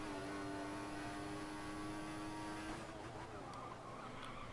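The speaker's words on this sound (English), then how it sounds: "Hear the wheels squealing there for that right-hander." A Williams Formula 1 car engine in the video game F1 2014 drones at Melbourne, with a high, sustained tire squeal through a right-hand corner that cuts off partway through, followed by rougher engine noise.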